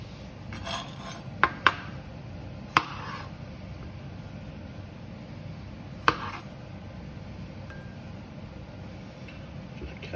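A kitchen knife cuts food pieces in half in a Mediterranean seafood dish preparation, a few sharp clicks of the blade striking the board over a soft, steady background hiss.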